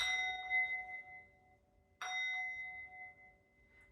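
A small meditation bell is struck twice, each ring a clear bright tone that decays slowly, heard alone and close.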